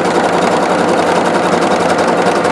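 A Singer SEQS 6000 Quartet sewing machine stitching with metallic thread at full speed gives a loud, steady, rapid mechanical whir and buzz, unbroken and close up, with no voices.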